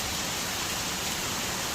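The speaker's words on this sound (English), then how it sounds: "There's too much rain" Heavy rain pours down outdoors in a steady, dense hiss that fills the scene evenly from start to finish, with no voices over it.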